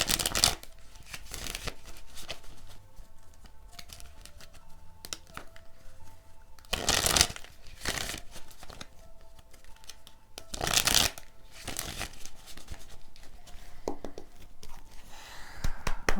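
Tarot cards being shuffled by hand, several crisp riffling bursts spaced a few seconds apart, close and fairly quiet, with softer handling and card sliding between them.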